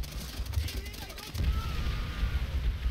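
Mortar rounds thrown in Call of Duty: World at War, a few sharp game blasts and thuds in quick succession over rumbling battlefield noise, moderately loud.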